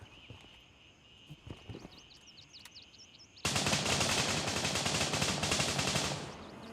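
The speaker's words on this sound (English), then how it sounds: "I'm hearing that gunfire. And it seems fairly close by." Sustained automatic gunfire in the shooter game Gray Zone Warfare bursts in loudly midway and rolls on as dense, continuous fire, following quieter ambient sounds with scattered faint distant shots.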